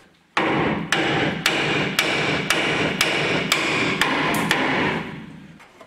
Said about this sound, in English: After undoing the nut, the bottom ball joint gets the twatting stick treatment.